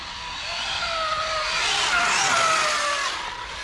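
A custom Arrma Typhon 6S RC car speeds past with a high whining electric motor whose pitch rises and falls as it approaches and recedes, loud and close, with no voices.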